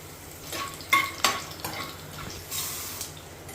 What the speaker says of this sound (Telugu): ఎక్కువ వేగకుండా చాలా లైట్గా ఫ్రై చేయాలి.